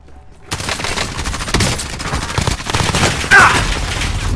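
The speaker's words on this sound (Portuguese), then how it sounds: "que arma é essa que esses caras dão 5 tiros na gente e morrem?" Rapid bursts of automatic gunfire from a Call of Duty Warzone match, loud and dense with overlapping shots after a brief quiet start, continuing steadily with a sharper burst near the end.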